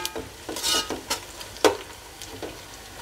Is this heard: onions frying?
yes